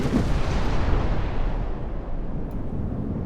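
Heavy 11-inch naval guns fire in the warship game Ultimate Admiral Dreadnoughts, a loud, deep boom followed by a long rolling rumble that slowly fades, with no voices.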